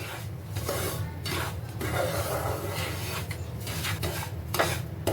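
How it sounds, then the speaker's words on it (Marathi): A spoon stirring semolina as it roasts in a pan for Gujarati Amrut Pak barfi gives a steady, close, scraping rasp that continues throughout with small irregular strokes. "आपण रवा भाजताना सतत ढवळत राहायचं आहे नाहीतर तो खाली लावू शकतो"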